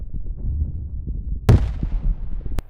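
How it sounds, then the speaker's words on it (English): A BM-21 Grad multiple rocket launcher fires in Ukraine's Kharkiv region: a low rumbling background broken by a sharp, loud blast with a long roaring tail, followed by a second brief crack, with no voices. "successfully carried out an attack with the BM-21 Grad multiple rocket launcher system"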